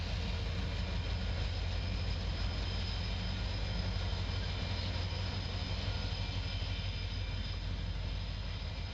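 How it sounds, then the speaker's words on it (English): A pair of Norfolk Southern SD40-2 diesel locomotives, former Southern Railway units rebuilt with short front hoods, give a steady, unbroken droning rumble with a deep low hum for the whole stretch, moderately distant and without voices. "a pair of former Southern Railway SD40-2s, NS 3319 and 3315"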